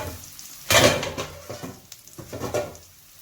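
A sharp sizzle bursts up as bite-sized chicken pieces hit a hot pan, then settles into crackling frying with a few clinks of utensils nearby.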